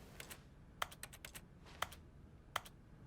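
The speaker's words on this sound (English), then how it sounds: "Every time I click, you hear like keyboard sounds, which is kind of meta." Keyboard typing clicks sound with each mouse click in The Stanley Parable: Ultra Deluxe: a few quick soft taps early, then three sharper isolated keystrokes about a second apart, quiet and close over a faint background hum.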